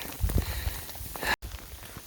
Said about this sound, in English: Getting pelted pretty good with the hail.